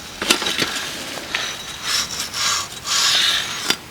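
A rusty V-twin engine part spun by hand, grinding and rasping with sand trapped inside, in repeated scraping strokes of rising and falling loudness, close up and with no talk.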